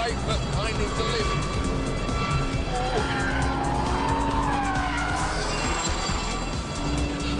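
A Porsche 911 GT3 skids around a race track at speed, its engine roaring continuously with tyre squeal rising through the middle, loud and close, while a voice talks over it throughout.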